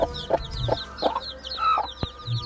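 Five newly hatched Bangkok chicken chicks peep in quick, high, repeated chirps, close and fairly soft, over light background noise and a few dull knocks.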